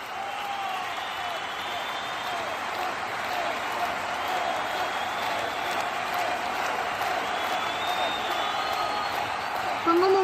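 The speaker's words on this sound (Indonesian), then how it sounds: "Mari kita berikan tepuk tangan yang meriah untuk generasi 10" An audience at a graduation concert applauds in a steady, dense wash of clapping that holds at an even level for about ten seconds, with faint cheering mixed in.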